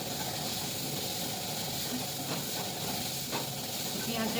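Onions soften in a pan over the heat with a steady, quiet hiss and sizzle that holds evenly throughout, with faint background noise.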